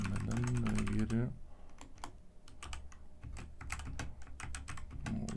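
Typing on a Redragon K617 Fizz compact gaming keyboard, a steady run of close, crisp key clicks with a brief speaking voice at the start and end.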